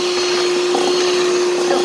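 An electric mixer drones steadily and loudly as it blends butter and vanilla into dough for Kurabie cookies.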